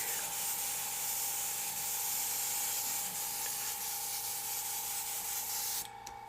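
An airbrush hisses steadily and close as it sprays through a texture effects stencil held about an inch from the surface, a continuous spray that cuts off near the end.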